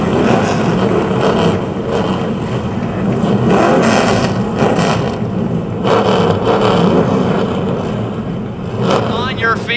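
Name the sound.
race car engines starting at speedway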